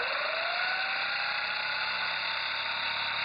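A DC motor run by a 10A H-bridge controller and drawing close to 5 amperes gives a steady, high electric whine with a tone that slowly rises, loud and constant, with no talking.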